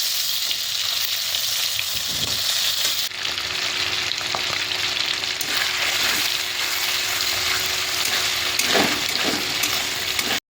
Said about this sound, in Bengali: চিংড়ি মাছ দিয়ে দিলাম হালকা করে ভেজে তুলে নেবো